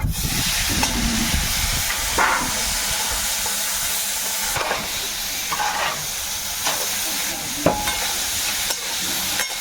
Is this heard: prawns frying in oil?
yes